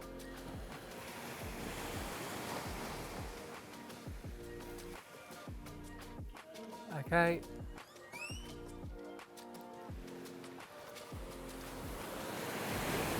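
Ocean waves break and wash steadily onto a beach, a continuous surf roar with wind buffeting the microphone while a person speaks briefly nearby.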